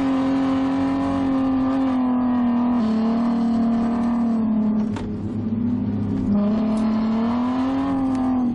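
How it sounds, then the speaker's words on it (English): A car engine drones steadily and close on a race track while drifting, its pitch wavering as it revs up and eases off, with a brief dip before climbing again. "So this is where we're drifting all 4 cars"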